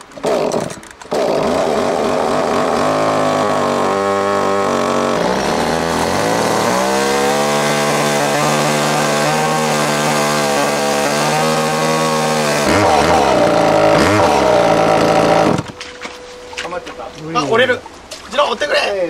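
A chainsaw cuts into a large waterlogged tree trunk pulled from a pond, its engine droning loud and close under load with shifting revs, then dropping to a rough idle and quiet patches while people talk.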